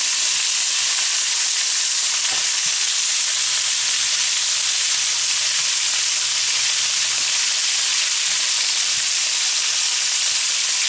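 Lobster searing in butter and garlic in a pan gives a loud, steady, close sizzle and hiss that runs unbroken throughout.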